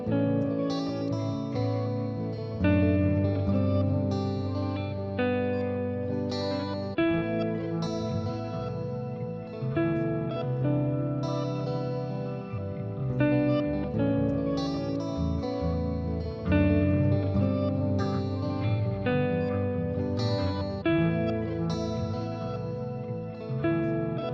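A bass line played through guitar effects pedals with ambient reverb and delay, forming a continuous layered, echoing tone that carries steadily throughout.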